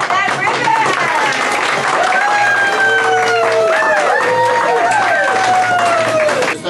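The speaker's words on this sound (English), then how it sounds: "let's give them a big round of applause as they cut that" A crowd gathered for a store ribbon cutting applauds loudly and continuously with scattered cheers and whoops, while voices chatter underneath the clapping.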